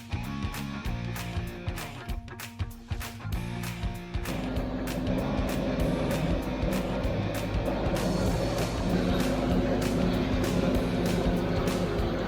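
A Ford 8N tractor engine runs steadily and loudly, a low rumbling drone that is choppy at first and then settles into a constant throb as it is driven into a barn.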